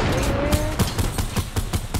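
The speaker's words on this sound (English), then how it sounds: "Yo, okay, I'm getting shot at" Rapid bursts of gunfire in a Fortnite duos match, sharp repeated shots roughly every quarter second, loud and close, with a faint tonal whine early on.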